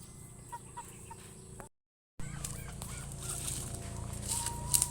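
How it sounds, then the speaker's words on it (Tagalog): Domestic ducks in a pen at feeding time, calling with a burst of quacks and honking fowl cries over steady farmyard noise, cut by a short silent gap partway through. "So ari na gali guys aton mga itik."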